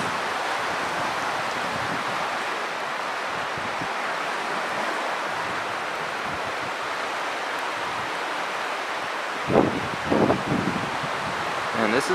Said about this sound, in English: Now here I'm actually standing right on top of the river.